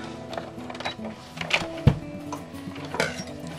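Sewing machine back tacking a seam on an apron, a quiet, brief mechanical whirr and rattle of stitching with small clicks, close and fairly soft.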